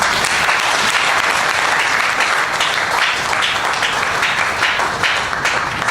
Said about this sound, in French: est-ce que tu peux t'acclamer toi-même?